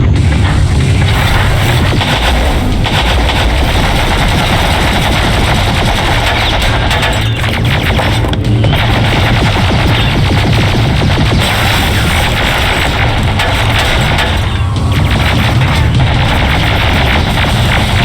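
Relentless automatic gunfire from the first-person shooter video game Terminator Resistance, with dense machine-gun bursts and shots overlapping into a loud, continuous barrage throughout.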